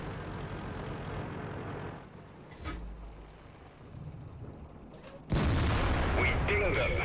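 A Tortoise tank in World of Tanks fires APCR rounds, sharp booming cannon shots with a heavy blast near the end over steady engine rumble and background battle noise.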